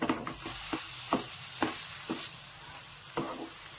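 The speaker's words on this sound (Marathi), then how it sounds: "छानपैकी हलवून घेऊया आपण" A spoon stirs vegetable curry and ground paste in a hot pan. Sharp scrapes recur over a soft, steady sizzle, with no talking.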